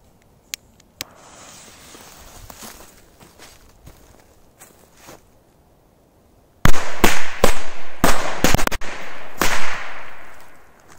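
Korsar firecrackers go off outdoors in bright sun: a few faint early pops, then a rapid loud string of sharp bangs close by, several blasts in quick succession with brief gaps.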